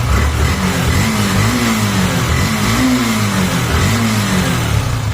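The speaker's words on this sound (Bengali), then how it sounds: "এবার আমরা গাড়ির অ্যাক্সেলেটার দিয়ে গাড়ির সাউন্ডটা শুনি।" A 2022 Yamaha FZ-S V3 150cc motorcycle engine revs loudly and close, its pitch rising and falling in repeated throttle blips over a steady rumble, with no voices.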